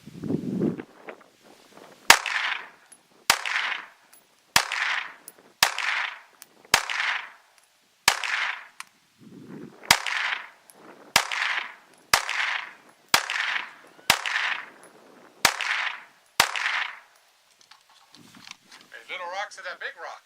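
About a dozen sharp, loud cracks from a New Frontier AR-15 .223 rifle ring out outdoors at a slow, steady pace, each shot trailing a brief echo, with a little talk at the start.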